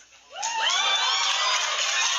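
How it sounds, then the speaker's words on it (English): A large crowd cheers and shouts in a sustained, bright roar that swells quickly and holds steady, heard as a replayed recording with no one talking over it. "And they cheer"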